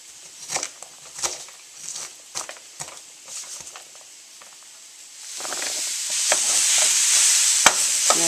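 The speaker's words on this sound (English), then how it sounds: "you're going to throw that in the frying pan with the hamburger" Ground beef frying in a pan: scattered scraping and stirring clatter of the meat, then a steady sizzling hiss rises and holds for the last few seconds, with no talking.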